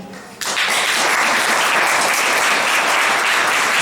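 A school audience at a student speech event breaks into loud, dense applause that starts abruptly and keeps a steady, even roar of many hands clapping right to the end.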